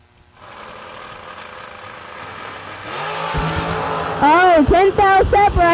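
Race cars at the SFG FuelTech season kick-off drag event, a steady engine roar that swells as the cars launch and ends in loud, rising and falling engine revs up close, with an announcer talking over it.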